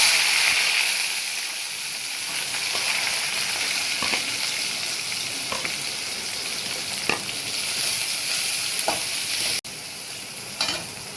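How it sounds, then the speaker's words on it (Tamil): Mustard seeds and cumin spluttering in hot oil, a steady loud sizzle broken by scattered pops and crackles, with occasional stirring or scraping sounds and no talking. "இப்போ வந்து கடுகு சீரகமும் பொரியுது."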